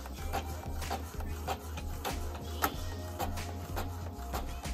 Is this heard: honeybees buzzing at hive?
no